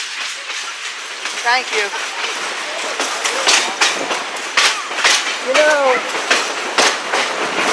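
A heritage excursion train on the GSMR Railroad rolls along the rails with a steady rumble and clatter, punctuated by squealing wheel flanges, while people talk nearby.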